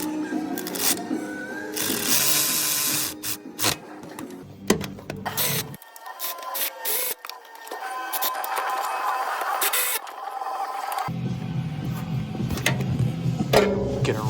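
Power tool running subframe bolts into a 2007 Honda Odyssey during rear motor and transmission mount work, in repeated whirring and buzzing bursts separated by short pauses, close and loud.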